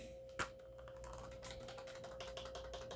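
Steady, quiet clicking of keys typed on a computer keyboard during a Windows 7 install on an AMD Ryzen X570 PC, with one sharper tap near the start over a constant electronic hum.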